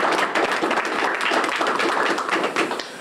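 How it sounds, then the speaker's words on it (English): Close, lively clapping from a room audience honoring Pine Bluff city aldermen at a morning community gathering, dense and even for a few seconds before easing off. "Y'all give them a round of applause."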